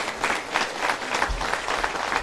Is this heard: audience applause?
yes